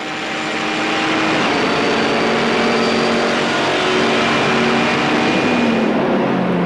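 Race cars, including Porsches and a Viper, accelerate hard on a circuit, a loud sustained engine roar that builds and holds, with pitch shifting as cars pass near, and no talking.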